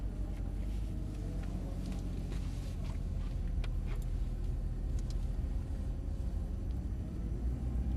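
A Mercedes-Benz SLS pulling away in manual mode on a track in darkness, its engine a steady loud low rumble with road and wind noise throughout, no clear gear changes standing out.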